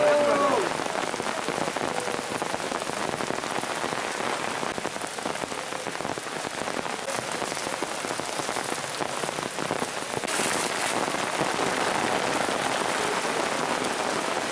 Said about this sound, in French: Il pleut, mais oui.